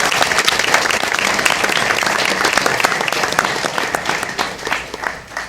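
A room full of people clapping at a school board meeting honoring seniors of the month, dense sharp claps throughout that thin into scattered individual claps near the end.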